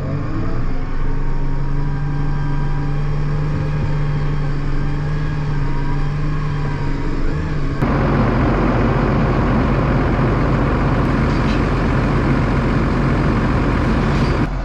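A farm tractor's steady idling engine drones with a low hum, then roars louder and rougher as it revs up for the rest of the clip.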